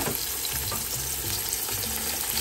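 Garlic fries in a pan for a vegetable pakbet dish, a steady close sizzle with faint crackling and occasional stirring, no voices.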